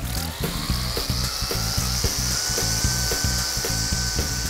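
A battery-powered edger trims sidewalk edges, a steady high motor whine with a rapid rhythmic scraping chatter as the blade bites along the concrete, close and loud.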